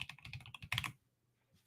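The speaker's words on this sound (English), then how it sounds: "Anyone like the sound of my keyboard?" Computer keyboard keys clack in a quick run of crisp taps, close and fairly quiet, then stop and leave near silence.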